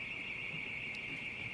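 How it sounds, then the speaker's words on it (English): A car alarm set off by an explosion in Tel Aviv sounds as a steady, continuous high-pitched wail from a distance, unbroken for the whole moment. "You can hear the car alarms"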